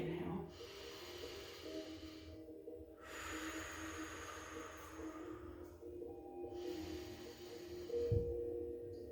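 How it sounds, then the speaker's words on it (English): Deep, drawn-out inhales and exhales through the nose during a Pilates session, broad airy breaths coming in long waves with short pauses, close and fairly soft. "nice big inhale up, and then exhale down"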